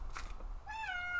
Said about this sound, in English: Cat wants to come and eat her dead thing in here with her.